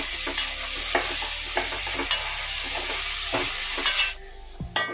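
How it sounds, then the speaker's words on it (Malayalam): Chopped tomato, onion, ginger and garlic with salt sizzle in a pan while being stirred, a steady close frying hiss with scraping stir strokes, the sizzle dropping away near the end. "ചേർത്ത് നന്നായിട്ട് വഴറ്റാം."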